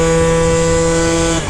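A Honda Elite (Dio AF16) scooter fitted with CVT upgrades holds a loud, steady, buzzing high-rev engine note during a wheelie, then cuts off abruptly near the end.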